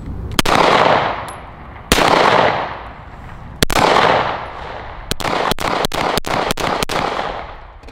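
Double-stack 1911 pistol in 9mm firing: three widely spaced sharp reports, then a rapid string of about eight quick shots, loud and close with ringing decay after each.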